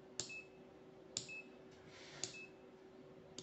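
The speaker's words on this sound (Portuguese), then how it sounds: "Ele tem um bip." Three short electronic beeps from an IT BLUE LE 1971 digital multimeter sound at regular intervals, each a sharp high tone, quiet and close with a faint hum between them.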